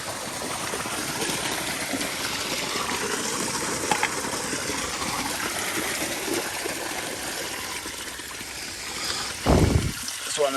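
Water running and trickling steadily off a house roof and gutters, a continuous wet wash with a louder gush of water near the end.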